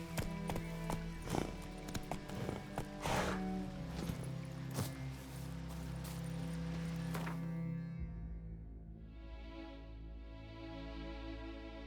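Roach, a horse in The Witcher 3, clip-clops along in a steady rhythm of close, distinct hoof strikes for several seconds before the hooves drop away beneath a sustained musical drone.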